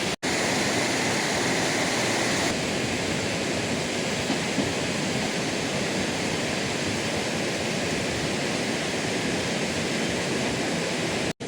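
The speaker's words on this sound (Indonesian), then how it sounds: "ini adalah aliran sungai Cikidang, yang dari sini itu adalah aliran sungai Cisungsang, menyatu di sini" Flowing river water where the Cikidang and Cisungsang rivers meet, a steady broadband rushing that stays even and continuous throughout, with no voices.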